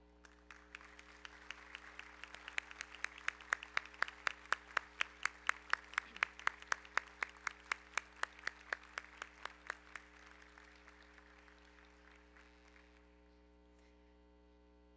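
Audience applauding jurors standing at a human rights award ceremony: a steady run of sharp individual claps over a hum, rising and then fading out over about ten seconds.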